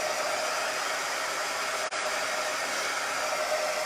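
A hair dryer blows loud and steady at close range over wet paint on a plaque, a constant rushing whoosh broken only by one brief dropout midway.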